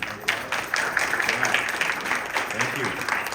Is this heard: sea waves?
no